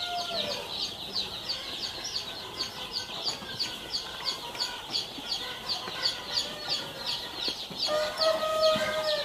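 Chickens in a coop housing 3,000 birds, a busy chorus of clucking with rhythmic repeated calls and occasional crowing, moderately close and continuous, without talk.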